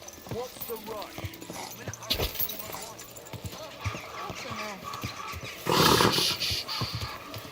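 Horse hooves clip-clop in the medieval video game Kingdom Come Deliverance 2, a quick patter of steps under game voices and ambient noise, with a louder burst of sound near the end.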